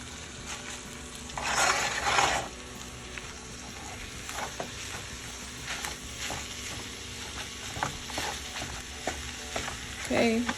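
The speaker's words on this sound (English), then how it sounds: "we're gonna cook the ground beef and we're gonna make these nachos" Ground beef frying and being stirred in a pan for nachos, a steady close sizzle with repeated scraping stirs and a louder burst of activity early on, no voices.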